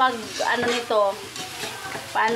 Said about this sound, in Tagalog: Hindi pala easy guys magluto ng ganito na marami. Ang hirap haluin.